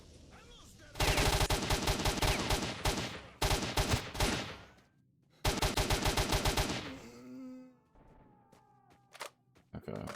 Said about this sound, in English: I'm like getting shot by him because I stood in the way.